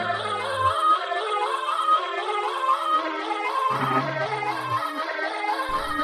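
Electronic soundtrack piece, made in OSC music style, plays with dense layered synth tones and a bass line that drops in and out, busy and bright throughout with no voices.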